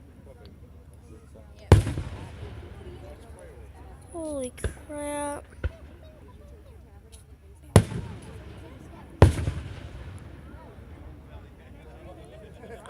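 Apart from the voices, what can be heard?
July 4th fireworks exploding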